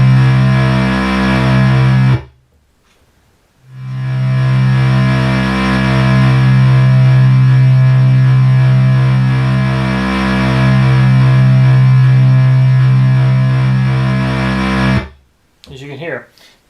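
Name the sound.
Minimoog synthesizer notes demonstrating attack time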